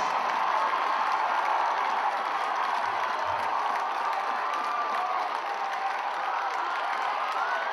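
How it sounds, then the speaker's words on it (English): Stadium crowd cheering and clapping for the 2011 North Coast Section Division III champions, Campolindo High School football: a dense, continuous roar of applause, whoops and shouts that holds steady at full volume throughout. "let's give one big final round of applause to Campolindo High School, your 2011 North Coast Section Division III football champions"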